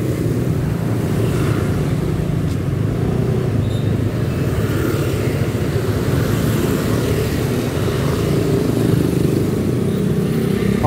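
A motorcycle rides through town traffic in Tasikmalaya with a constant engine drone and broadband wind and road rumble, loud and close throughout.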